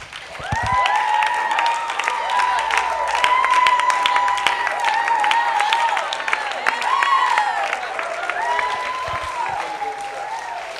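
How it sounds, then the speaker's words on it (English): A room full of people applauds graduates steadily, mixed with scattered cheers and whoops, loud and sustained for several seconds. "can we give them a round of applause, please?"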